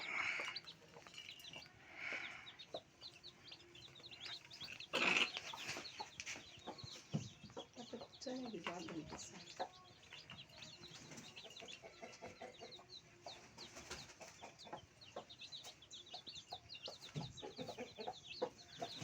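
Country-breed chicks peep and hens cluck faintly and continuously in a village setting, with scattered high chirps over a low, steady background.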